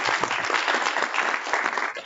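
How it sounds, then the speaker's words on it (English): An audience applauds the speakers at the end of a tutorial session in Anaheim, steady clapping from a room full of people with no voices over it. "Round of applause for all our speakers."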